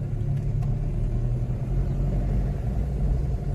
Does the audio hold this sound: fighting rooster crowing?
no